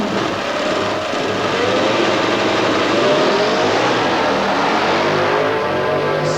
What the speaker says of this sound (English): Harley Davidson and a 2-stroke Kawasaki.